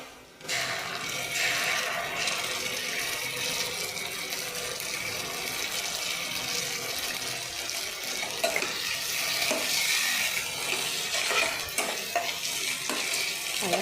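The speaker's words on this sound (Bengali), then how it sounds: "আদা রসুনের পেস্ট দিচ্ছি" Ginger garlic paste fries with browned onions in a pan for a homestyle chickpea curry, a continuous hiss and sizzle with scraping stir strokes throughout.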